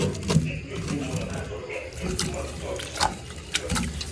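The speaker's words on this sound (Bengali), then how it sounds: "এই কল হচ্ছে ঝর্নার কলের মতন পানি" Water runs from a tap in a steady, moderately loud wash with a few brief splashes and knocks, heard close and alone with no talking.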